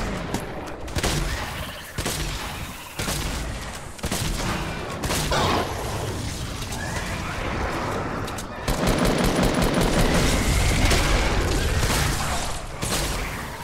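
Rapid gunfire in Fortnite Battle Royale, loud bursts of repeated shots broken by short pauses, then a long dense stretch of sustained firing near the end.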